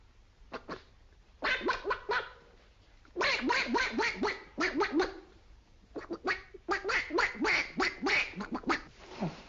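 A man imitates a duck, quacking in rapid repeated bursts separated by short pauses, close and fairly loud.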